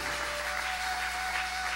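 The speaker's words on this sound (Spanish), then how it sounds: "Dale un aplauso al Señor." Church congregation applauding in a steady, even wash of clapping, moderately quiet and continuous, with a faint sustained tone underneath.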